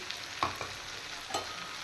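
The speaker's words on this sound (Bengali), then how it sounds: "এবার হালকা আরেকটু ভাজা ভাজা করব তিল দিয়ে" Sesame paste and green chilli paste frying in a pan for a Bengali rohu fish curry, with soft continuous sizzling and a few brief stirring scrapes, fairly quiet and alone.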